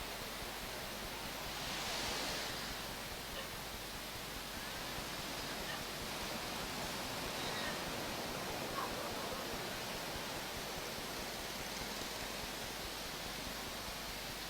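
Surf washes onto Kuta Beach in Bali, a continuous, even roar of breaking waves heard from nearby with no distinct separate crashes.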